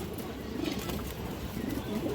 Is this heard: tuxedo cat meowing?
no